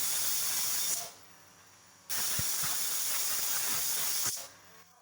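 Loud, steady hissing of steam bursting from a pressure cooker whistle while cooking tomato rice, cutting out briefly, then returning for another long blast before fading.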